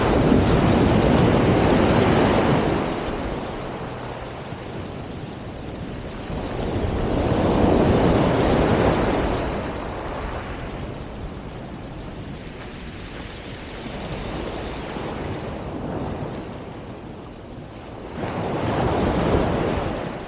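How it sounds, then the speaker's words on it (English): Sea waves roll in and wash up the beach at Deal on the East Kent coast, by Prince of Wales Terrace. Several loud, close surges swell and fade in slow succession over steady surf hiss, with no voices. "With the waves lapping at my gear"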